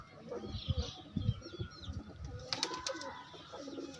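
A pigeon held in a hand struggles and thrashes in short bursts of flapping and rustling close by, with soft coos and faint chirps around it.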